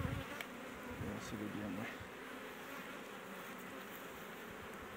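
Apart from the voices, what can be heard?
honey bees buzzing at an opened beehive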